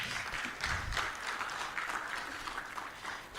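Audience applause at a summit, a steady wash of many hands clapping that holds at an even, fairly loud level throughout with no voices on top.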